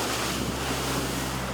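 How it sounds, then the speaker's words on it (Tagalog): Raging typhoon wind and storm-surge flood waves roar in a dense, continuous rumble of gusts and surf with no letup. "Nagngangalit na hangin at pala tsunaming baha."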